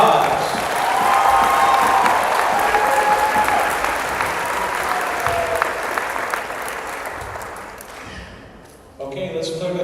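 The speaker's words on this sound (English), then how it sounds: "Let's give our seniors and their families one big round of applause." A gymnasium crowd at a high school volleyball game gives a long round of applause for the seniors and their families, dense clapping with voices, fading out near the end before a brief sound of talk.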